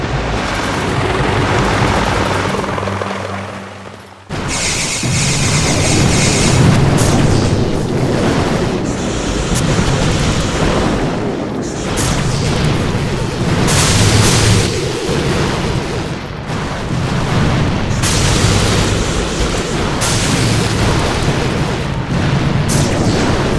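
Barrage explosions from the mobile strategy game Boom Beach during a warships battle, a dense, continuous stream of loud booms and blasts that pounds on almost without a break, with only a brief lull early on.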